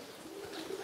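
Racing pigeons cooing softly in a loft, a low, rolling coo repeating faintly over a steady background hum.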